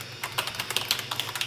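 Hard, rapid typing on a Razer BlackWidow membrane keyboard, a close string of sharp key strikes in an uneven rhythm with a slightly rattly edge, no voices.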